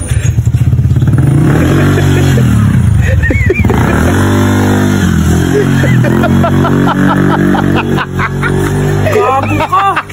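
A motorcycle engine revs loudly and close with a low, throbbing drone and shifting pitch, while people talk and shout excitedly over it.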